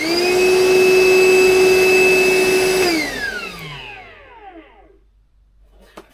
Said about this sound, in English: Milwaukee M18VC2 Hoover.